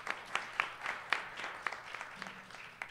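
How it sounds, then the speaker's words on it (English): Scattered claps from an event audience at a Jackie Robinson centennial tribute in Brooklyn, sparse and fairly faint, individual hand claps at irregular intervals rather than a full ovation. "So please give her a round of applause."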